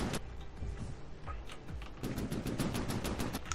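A laser cannon built from barrels with a laser combiner inside, in the From the Depths naval combat game, fires in rapid repeated bursts, a dense crackling rattle that grows busier and louder toward the end.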